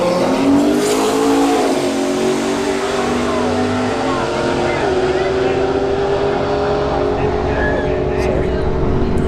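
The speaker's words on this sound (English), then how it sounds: "here's that Ford station wagon again, lining up against the McLaren 570S again" A Ford station wagon and a McLaren 570S drag race at a motorsports park, with loud, close engines revving and accelerating hard, their pitch sweeping upward and then dropping away over a dense roar of continuous noise.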